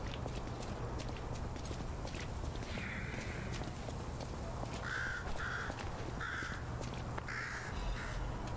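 Crows caw repeatedly in the video game Lies of P, harsh short calls in loose clusters over a steady low ambient rumble and occasional hoof-like clopping.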